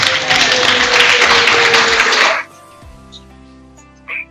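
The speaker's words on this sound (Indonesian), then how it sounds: "Tepuk tangan untuk Pak Kasubagi dan" Audience applause at a Maulid Nabi Muhammad commemoration ceremony, loud, dense clapping from a room full of people that cuts off abruptly about halfway, leaving quiet background with a brief faint noise near the end.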